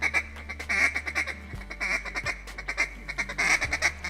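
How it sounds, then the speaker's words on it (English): A duck call blown in a stutter feed pattern, giving rapid, choppy, quacking notes in quick bursts, close and clear with no talking. "we want to go to stutter feed as the ducks get in closer. This sounds a little bit more natural and realistic."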